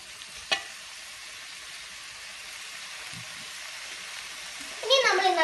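Mixed vegetable pickle sautéing in a pan gives a steady low sizzle throughout, with a sharp clack near the start and a voice speaking over it toward the end.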